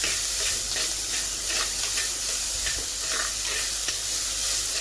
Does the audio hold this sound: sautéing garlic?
yes